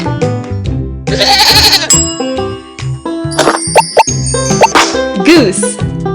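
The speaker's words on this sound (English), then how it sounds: "Goat." A cartoonish goat bleat sounds in a children's animal-matching learning game, set among bright plopping and dinging sound effects at loud, close level.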